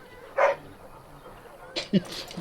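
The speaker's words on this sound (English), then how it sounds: "Who's the cute and adorable puppy?" A puppy in the video game Dragon Age: Origins gives a short yip, then two quick barks a moment later, close and moderately loud over a faint background hum.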